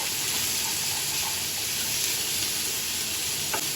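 Steady, close sizzling of chicken frying in a hot pan for chicken pickle, a continuous hiss with faint crackles and a small clink near the end.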